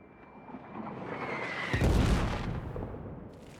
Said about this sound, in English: Of course, we have artillery blowing us up